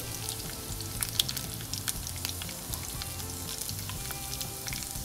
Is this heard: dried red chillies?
yes